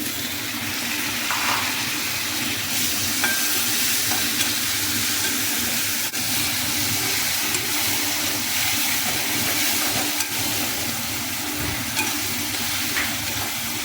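Steady loud sizzling of egg and potato curry frying in a pan, with spoon stirring scrapes throughout; continuous close hiss and crackle, no talking.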